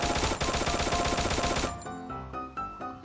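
Rapid automatic gunfire from a weapon in the video game Free Fire rattles out in a dense, loud continuous burst, then gives way to a few separate, spaced shots with ringing tails.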